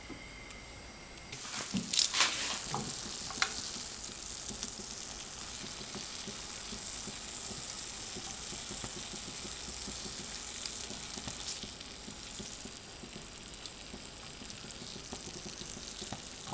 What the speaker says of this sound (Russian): Тем временем я поджарю сырокопченый бекон.